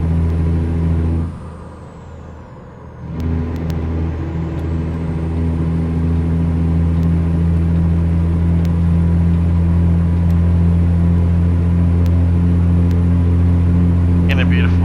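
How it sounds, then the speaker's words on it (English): A heavy truck engine in American Truck Simulator drones steadily and loudly throughout, with strong low harmonic rumble, a brief dip in level early on before the engine note swells back. "the view, the truck, just everything, the sound of the truck"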